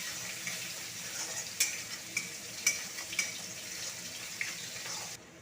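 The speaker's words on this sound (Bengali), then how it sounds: "এরপরে মশলাটাকে ভালো করে ভেজে নেব।" Spice paste of turmeric, coriander and cumin powder with salt sizzles faintly in oil for a Bengali fish curry, with a steady soft fizz and a few sharp stirring clicks against the pan.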